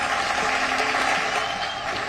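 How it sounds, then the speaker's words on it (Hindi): Crowd applause welcomes the Prime Minister at the Ganga Expressway foundation ceremony in Shahjahanpur, a loud, continuous wash of clapping from a large gathering with no break. "जोरदार तालियों के साथ स्वागत करें।"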